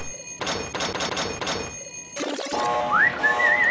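After some rhythmic rustling and a thump, a clear whistle rises in pitch and then warbles, close and fairly loud.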